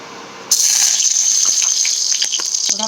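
Mustard oil hitting a hot kadai (wok), a sudden loud hissing sizzle that starts abruptly and holds steady with crackling pops.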